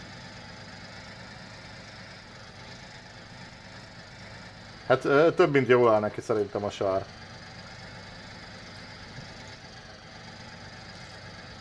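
Rába Steiger 250 tractor engine idling in SnowRunner, a steady low droning hum throughout, briefly overlaid by someone talking in the middle.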